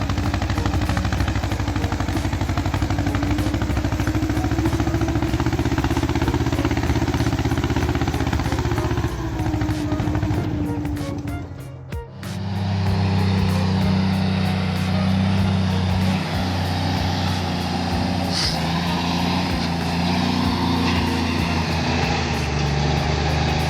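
Heavy tractor engine labouring through deep mud, a loud continuous roar and drone close by that briefly dips midway, then returns with a deeper, heavier grind, no talking over it.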